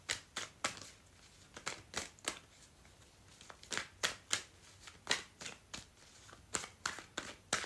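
A deck of playing cards shuffled repeatedly, with crisp, close snapping riffles in a steady, irregular stream of sharp bursts against a quiet background, and no talk.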